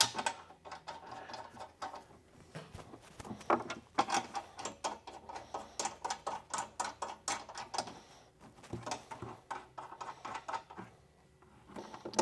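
Hardware on a Dean Speed Challenger highway bar and Indian bag guard is tightened, producing rapid repeated ratchet clicks in bursts with short pauses, close and crisp, with no talking.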